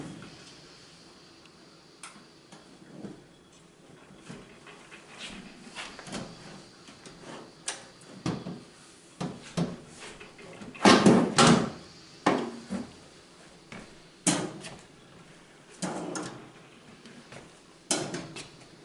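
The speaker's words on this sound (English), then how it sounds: "So what I'm going to do is I'm going to remove the drawer first." A drawer is pulled out of a Bosch glass-top stove, giving a series of scattered knocks, clunks and sliding scrapes, close and moderately loud, with a busier burst of rattling near the middle.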